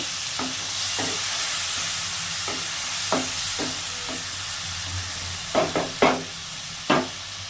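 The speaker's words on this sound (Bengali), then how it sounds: "আদা জিরে শুকনো লঙ্কা আর হলুদ নুন একসঙ্গে দিয়ে ভালো করে কষিয়ে নেব" Ginger, cumin, dry chilli, turmeric and salt fry steadily in a pan with a continuous soft sizzle, broken by a few sharp scraping stirs that grow louder toward the end.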